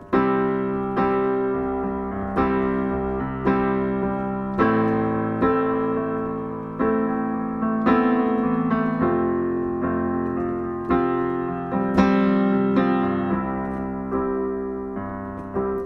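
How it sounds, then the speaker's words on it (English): Piano plays a repeating chord pattern, each note struck and decaying in a steady, looping rhythm, close and clear with no voices. "I'm going to play it in the piano."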